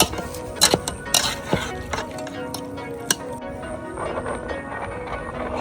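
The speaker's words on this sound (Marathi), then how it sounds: "राईस आपल्याला असा पसरून ठेवायचा आहे" Cooked rice for biryani spread out in a pot outdoors in the hills, with a run of scraping spoon and pot clinks, several sharp metallic knocks early on, then softer scraping later.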